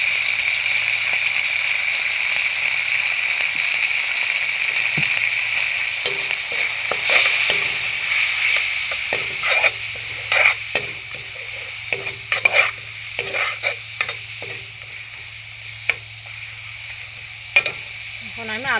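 Spices with cumin powder and red chili powder sizzle steadily in a frying pan, while a utensil stirs and scrapes in irregular bursts. The stirring grows busier and more clattery toward the end.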